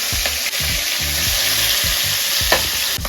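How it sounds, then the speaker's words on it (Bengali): Fish shallow-frying in hot oil in a kadai for a poppy-seed and chilli curry, a steady close sizzle and crackle running throughout with soft stirring or scraping knocks against the pan. "কড়াইতে তেল দিয়ে দিব, মাছটা হালকা করে ভেজে নেব।"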